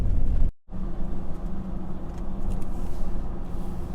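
A Ford Ranger fitted with an EVC throttle controller set to automatic rolls out onto the road, its engine and tyre rumble steady and close inside the cab, with a brief dropout near the start.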